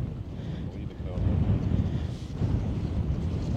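Wind buffets the microphone at a lakeside fishing tournament, a steady low rumble swelling in gusts around the middle and end, close and fairly loud with no clear speech.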